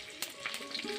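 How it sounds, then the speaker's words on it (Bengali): Grated ginger, five-spice seeds and dried red chillies hit hot oil in a pan, giving a brief, close, crackling sizzle with a few sharp pops. "তেলটা গরম হয়ে গেছে আমার। আদা কুচানো দিয়ে দিচ্ছি, পাঁচফোড়ন, শুকনা লঙ্কা,"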